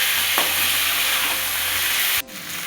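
Boiled potatoes sautéing with cumin, ginger, garlic and onion paste, a loud, dense, continuous sizzle that cuts off abruptly near the end, leaving a quieter hiss.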